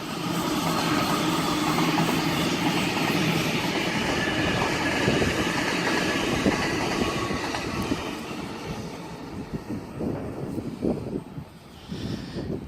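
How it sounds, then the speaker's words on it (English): A Waratah electric train passes on the up main line, a loud continuous rumble of wheels with rhythmic clatter and faint squeal that eases off toward the end. "Whilst we have a Waratah passing the up main"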